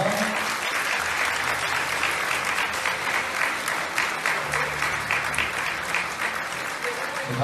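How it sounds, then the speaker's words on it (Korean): An awards-ceremony audience claps steadily and loudly, a sustained wash of applause with a low hum underneath and no break. "박수 부탁드립니다."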